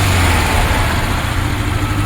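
A 1966 Porsche 912 engine with rebuilt 356 carburetors idling, a loud, close, steady low rumble with a rapid even pulse and no voices.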